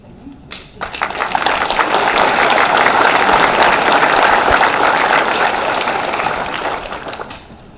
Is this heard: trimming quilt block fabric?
no